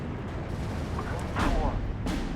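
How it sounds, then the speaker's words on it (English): Tank guns firing in a World of Tanks-style video game, two muffled booms heard at a distance over a rumbling battle background. "Looks like this gun is engaging the KT."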